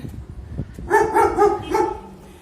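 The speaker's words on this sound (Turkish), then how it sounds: "Manyak bir köpek var burada." A dog barking nearby in a run of about four loud, close barks, with scuffling noise before them.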